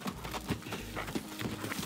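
Horse hooves clip-clopping at a steady walking rhythm, faint and fairly distant, with a few soft irregular steps and no talk.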